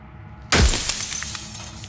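A game character shattering like breaking glass: one sudden loud crash at the start, then a bright tinkling scatter of shards that rings on and fades slowly, with no voices.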